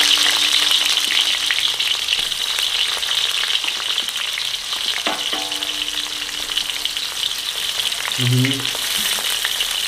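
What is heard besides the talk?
onions frying in oil in a pan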